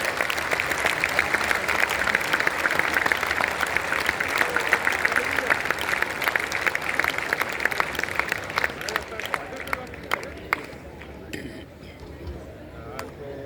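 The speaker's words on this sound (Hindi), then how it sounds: "तालियां बजा के अभिनंदन हम सब लोग करें।" An audience claps at an Arya Samaj honouring ceremony at Bharat Mandapam, with dense, sustained applause that gradually thins into scattered individual claps toward the end.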